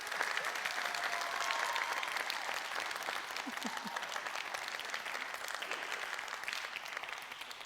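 Steady, sustained applause from an audience at a Neapolitan talent show evening, dense continuous clapping that fills the whole stretch at an even level, with no talk over it.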